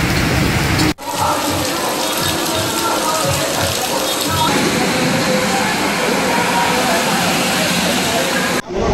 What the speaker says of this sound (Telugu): హైదరాబాద్ లో కుండపోత వర్షం కురుస్తోంది.